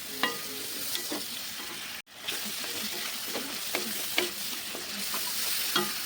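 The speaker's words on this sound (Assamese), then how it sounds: "এইখিনি অকণ ভাজি ল'ম।" Spices, onion and tomato sizzle in a pan for drumstick flower curry, with a steady hiss of frying broken by soft, repeated scraping strokes of a spatula stirring close by.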